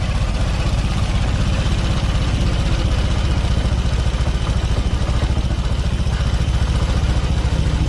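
A Honda Vario Techno 125 scooter engine idles loudly and close, a steady fast clattering putter running evenly throughout.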